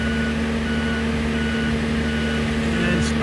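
A boat travel lift at Jarrett Bay boatyard sounds steady, evenly spaced reversing beeps over a constant idling engine drone, close and moderately loud, with a faint brief voice near the end.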